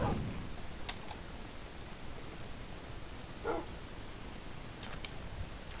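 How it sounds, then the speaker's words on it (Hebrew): Dogs or wolves in the Minecraft video game give a few faint, short barks and yips over a steady hiss of game background noise, with no speech. "וואי, יש פה עוד כלבים."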